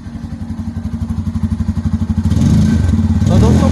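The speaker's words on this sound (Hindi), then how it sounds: "अब मैं आपको एन फिफ्टी के इंजन के और इसके एग्जॉस्ट के साउंड को चेकआउट करा देता हूँ" A Bajaj Pulsar N250 motorcycle engine idles with a steady, rapid thumping exhaust beat, then revs up louder and rougher toward the end, close up.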